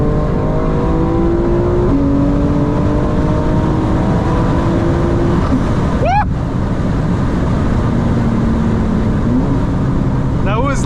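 A 900HP 2025 BMW M4 Competition xDrive accelerates hard at about 80% throttle at night, heard from inside: a loud, steady engine drone climbs in pitch, drops at gear changes, then climbs again, with faint talk.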